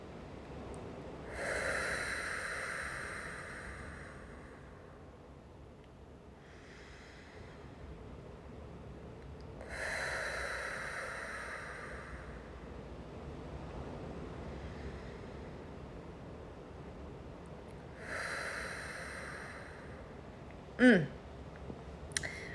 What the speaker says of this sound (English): just take 3 deep breaths